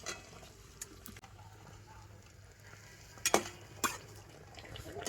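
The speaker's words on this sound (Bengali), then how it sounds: "আরও একটা পোয়া পিঠে সুন্দর করে ভেজে নিয়েছি" Poa pitha, little cakes of rice flour and ripe mango, frying in oil, giving a soft, steady sizzle with a few brief clinks and scrapes rising over it.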